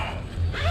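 A Yakima Base Camp rooftop tent on a 2019 Ford Ranger is zipped open, a brief close zipper rasp in two quick pulls.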